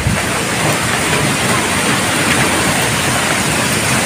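Loud, steady rushing typhoon floodwater roars without pause, a dense broadband wash like a swollen torrent close by.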